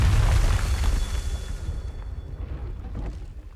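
A fiery Confringo spell explosion in Hogwarts Legacy on PS5 Pro, a deep rumbling blast that starts loud and slowly fades out over a few seconds.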